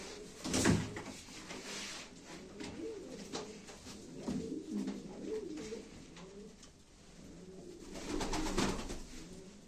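Pigeons coo softly and repeatedly at a live pigeon auction, low throaty calls in uneven bursts, with wing flutters and light handling knocks nearby.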